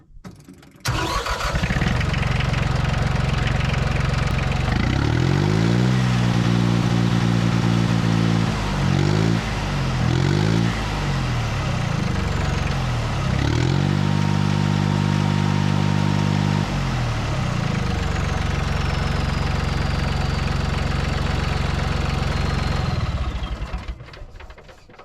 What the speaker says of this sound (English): I'm gonna crank the tractor up real quick